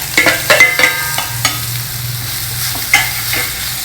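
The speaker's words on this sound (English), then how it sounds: "And just stir it for a few minutes." Spatula scraping and stirring crumbled urad dal usli with hing and curry leaves in a hot pan, a few sharp scrapes over a soft continuous sizzle.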